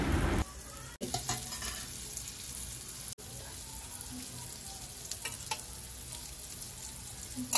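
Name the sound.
prawns frying in spice mixture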